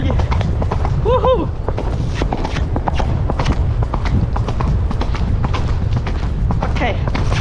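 A horse gallops on an autumn trail ride toward a stable, its rapid hoofbeats thudding steadily and close throughout, with a rider's voice briefly breaking in over the rhythm.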